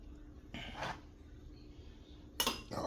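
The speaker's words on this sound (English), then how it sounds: "I'm about to touch this pan." A hot metal oven pan holding ribs is touched and handled, giving a couple of short metallic clanks and clinks, quiet and close, separated by brief pauses.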